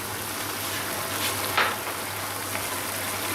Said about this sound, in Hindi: इसमें अच्छे से इसे मुर्गी को भून लेंगे ऑयल में।